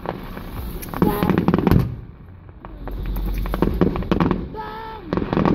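Festival fireworks burst overhead at the AlKhobar festival, with repeated booms and crackling pops, some distant and some loud, while spectators talk and exclaim throughout.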